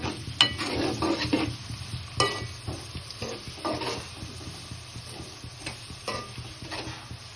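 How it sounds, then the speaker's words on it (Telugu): Radish and tomato curry sizzles softly in a pan while a spoon stirs it, scraping and tapping against the metal in an irregular rhythm under a steady low hiss. "ఇలా మంచిగా ఫ్రై చేసుకుంటే"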